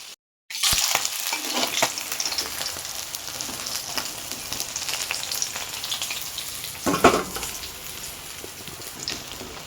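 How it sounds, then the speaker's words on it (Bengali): Pieces of catla fish fry in a pan with a steady, close sizzle and crackle after a brief silent start, with a louder spitting burst partway through. "চলো এবার মাছগুলোকে ভেজে নিই"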